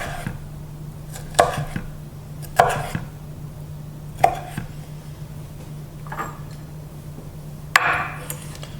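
Knife chopping tomato into smaller pieces on a board for tabbouleh salad: about six sharp, separate cuts spaced irregularly over a steady low hum, close and clear, with no talking.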